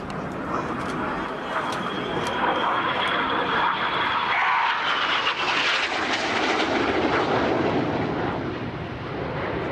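Red Arrows jet aircraft flying the carousel display manoeuvre, a loud continuous jet engine roar that swells and shifts in pitch as the planes pass, with wind buffeting and a voice talking over it.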